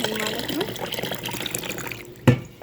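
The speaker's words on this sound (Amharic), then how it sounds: "እስከሚበቃኝ ድረስ ውሃ ጨምራለሁ ማለት ነው።" Water is poured into a dish while cooking, making a continuous splashing trickle up close that ends in a short sharp splash and drip.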